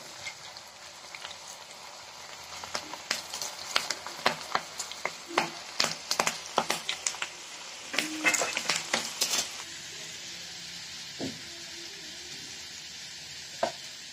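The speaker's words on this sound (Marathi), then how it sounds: "आता आपण इथं तेल गरम करायला घेतलेलं, तेल गरम झालेलं आहे. आता भेंडी फ्राय करूया." Okra fries in hot oil with a steady sizzle, broken by bursts of crackling pops and a few scraping stirs through the middle, then settling back to an even hiss with an occasional clink.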